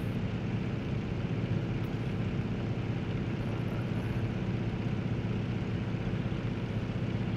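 An F6F Hellcat in flight in Microsoft Flight Simulator, its radial piston engine giving a loud, steady, unbroken drone with a constant low rumble from start to finish.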